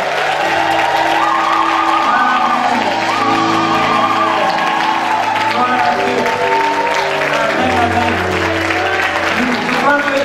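A church congregation at a Women Of God Ministry service cheers and applauds, a dense, continuous wash of clapping and shouting with music underneath throughout.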